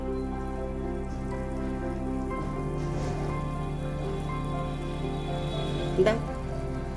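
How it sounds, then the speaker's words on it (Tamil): Continuous crackling, rain-like bubbling of sugar syrup simmering in a pan over medium heat, close and steady, with one brief clink near the end. "சக்கரை கரைஞ்சி கொதிக்குது."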